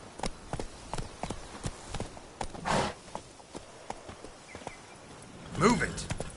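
Hooves of Geralt's horse Roach from The Witcher 3: Blood and Wine clopping in a steady quick rhythm close by, with brief voices and breathy effort sounds breaking in twice.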